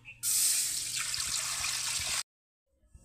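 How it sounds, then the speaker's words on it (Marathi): Water poured from a vessel into a cooking pot, a loud steady rushing splash lasting about two seconds, then stopping abruptly into silence. "आता हे पाणी मी या पातेल्यामध्ये टाकून घेणार आहे"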